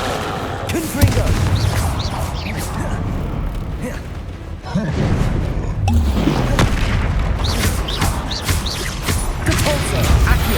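Confringo blast spells exploding in the Hogwarts Legacy video game, heavy booms and crashes among continuous loud battle noise, with several hits landing one after another.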